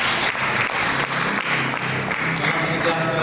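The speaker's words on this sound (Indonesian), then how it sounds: "mari kita berikan tepuk tangan yang meriah" Church congregation at a Sunday sermon applauding: dense, steady clapping from a crowd, loud and continuous throughout with no pauses.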